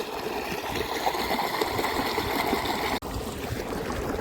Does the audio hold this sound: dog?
no